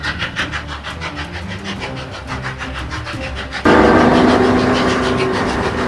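A toy Thomas and Friends wooden railway train runs along the track with a steady rhythmic clatter, then a louder, denser rumbling rush sets in partway through, close by.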